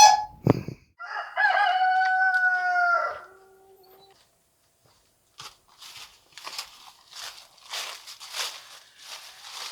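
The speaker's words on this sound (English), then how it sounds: "We have captured a chicken." A captured chicken squawks loudly in a burst of harsh, strained cries over about three seconds, then falls quiet before a run of fainter scuffling clucks and rustles.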